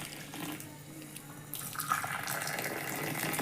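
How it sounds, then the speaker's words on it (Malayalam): Hot boiled milk tea pours into a cup as a close, continuous liquid stream. The flow grows brighter and fuller toward the end, with no voices. "അപ്പോൾ ചായ തിളച്ചു. ഈ കപ്പിലേക്ക് വയ്ക്കട്ടോ."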